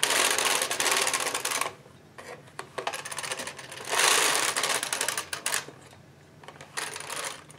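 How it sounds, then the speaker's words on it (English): An Ultimate Sweater Machine knits garnet yarn, its carriage sweeping across the needle bed in long, loud rattling passes separated by brief pauses and scattered clicks, close up. "now I can just keep knitting with my garnet yarn and make whatever it is I'm making"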